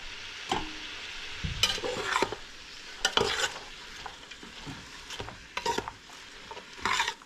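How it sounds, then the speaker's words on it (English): Cabbage and onions being stirred in a pan over soft frying, with several sharp scrapes and clinks of a utensil against the pan at irregular intervals above a quiet sizzle. "you're just gonna add some of the cabbage in and give it a stir"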